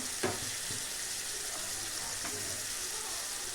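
Okra frying in a pan on a home stove for a tamarind curry meal: a steady, fairly faint sizzle throughout, with a couple of soft utensil clicks near the start.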